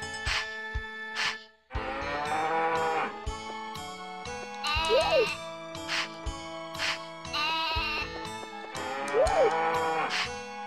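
Farm cows in Harvest Moon 64 give repeated, close, clear moos, with sheep-like bleats and light jingling game music running between the calls.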